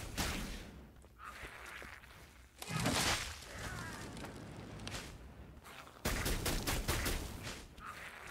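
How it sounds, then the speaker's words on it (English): In Dungeonborne, gunfire comes in bursts: clusters of loud, rattling shots separated by quieter stretches of movement and rustling, with a final burst at the end. "There's one last burst then. The gun is done."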